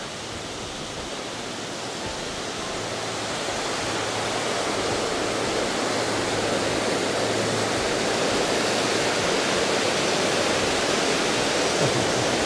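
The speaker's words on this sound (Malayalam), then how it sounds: "താഴത്ത് കൂടി ഒരു ചെറിയ അരുവി പോകുന്നുണ്ട്. അതിൻ്റെ ഒച്ചയൊക്കെ നമുക്ക് കേൾക്കാം." A small stream flowing through the Oetztal valley in the Alps, a steady broadband rush of water that rises slightly and then holds constant, with no voices.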